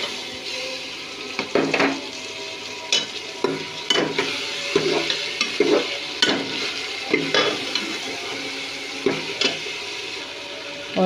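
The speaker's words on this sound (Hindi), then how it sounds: "और अब 1 मिनट मैंने मटर भूने।" Green peas fry and sizzle in a pan as a spoon stirs them, a steady close hiss broken by regular scraping strokes, with no talking.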